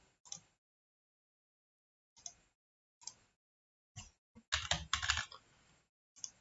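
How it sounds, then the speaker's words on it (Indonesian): Short bursts of typing on a computer keyboard come from nearby in a quiet room, with a few isolated keystrokes followed by a quicker run of clicks near the end. "Oke, kita ketik manual saja."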